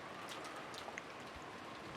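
Steady rainfall in the visual novel game Umineko When They Cry, a soft continuous hiss of drops with faint scattered patters, even and unbroken with no voices.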